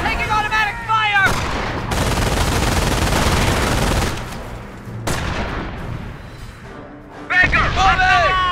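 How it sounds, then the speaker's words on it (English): Automatic weapons rattle in rapid, dense bursts during a Company of Heroes causeway battle, loud and near, with shouted voices before and after the sustained firing. "Taking automatic fire!"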